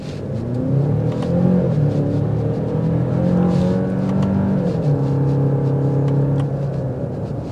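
A 2024 Genesis GV70 with the 2.5-litre turbo engine accelerating in Sport Plus mode, a steady close engine drone rising in pitch through the gears with one shift, heard from inside the cabin.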